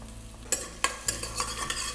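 Finely chopped ginger and garlic dropped into hot tempering oil with cloves, sizzling close up with several sharp stirring scrapes and spatters over a steady frying hiss.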